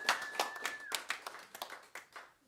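Several people clap in a short, uneven burst of applause at an outdoor arts event, the sharp hand claps scattered and fading over a couple of seconds, with a faint high whistle-like tone at the start.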